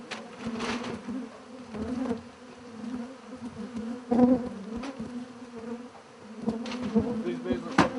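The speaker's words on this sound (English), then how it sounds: "These bees are so pissed right now." Angry bees swarm inside a house wall in West Houston, a steady buzzing drone with rising and falling intensity, close to the microphone, as wall boards are pulled off.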